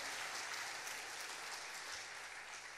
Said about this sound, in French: On applaudit la parole de Dieu bien fort.